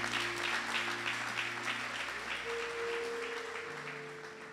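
A church audience applauds and cheers for Jesus, sustained clapping from a large crowd with sustained organ or keyboard chords underneath, gradually fading toward the end.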